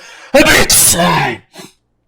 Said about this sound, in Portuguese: eu tô meio com gripe, tô espirrando.